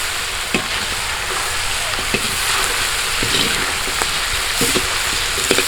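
Pork frying in its own rendered fat over an outdoor fire, stirred now and then: a steady, close, loud sizzle and crackle with occasional scraping and clinks of a utensil against the pan.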